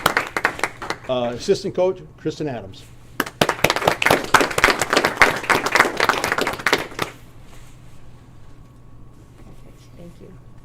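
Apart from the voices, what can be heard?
audience clapping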